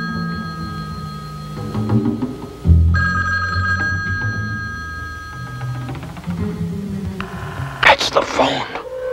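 An old 1970s telephone bell rings in repeated bursts indoors amid background noise and movement, with a voice speaking over parts of it.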